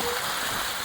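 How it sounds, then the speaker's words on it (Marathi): Rain falls steadily during a fishing outing, a continuous dense hiss that is loud and close for just under a second. "पाऊस आला."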